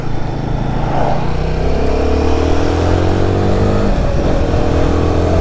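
Royal Enfield Guerrilla 450 motorcycle engine with the throttle opening, a loud steady single-cylinder drone whose pitch climbs and dips unevenly as it pulls, continuous and close throughout.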